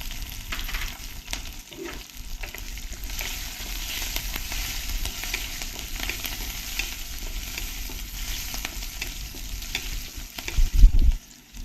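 Garlic frying in hot oil with mustard seeds, cumin and chili, a steady close sizzle with faint crackles throughout and a brief louder stir or scrape near the end.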